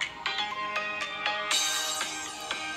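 Tinny music from the single bottom speaker of a cheap used Note 8 smartphone, a bright tonal melody with rhythmic plucked notes, close and fairly loud, playing alone without talk.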